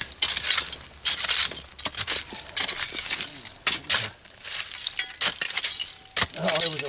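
A glass whiskey bottle and its glass stopper, dug up by a backhoe, clink and rattle in sharp, close, irregular bursts among shuffling handling noises.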